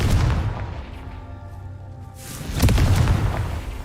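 A Confringo blasting spell detonates in the Hogwarts Legacy video game, giving a loud booming burst at the start and another heavy explosion near the end, with a quieter rumbling lull between.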